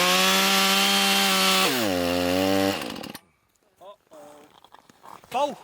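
A chainsaw cuts into wood at a forestry fair, its engine roaring loud and steady, then dropping in pitch under load before cutting off. Short revving bursts and brief speech follow afterward.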